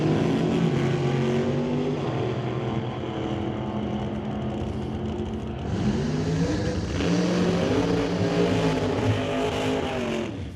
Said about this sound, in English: 68 Chevelle, 638 cubic inch big block Chevrolet. With a big fat nitrous bottle.